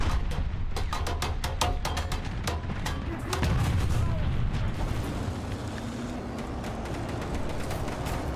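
Tank battle in War Thunder with sharp repeated gunshots early on, then a heavy artillery boom and rumbling blasts, moderately loud amid ongoing battlefield noise.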